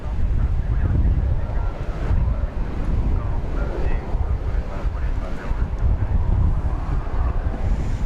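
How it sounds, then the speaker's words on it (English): A strong, steady wind gust roars across the microphone at the DFW Airport runway as a plane touches down, loud and continuous with a deep rumble. "Big gust just as this plane is touching down."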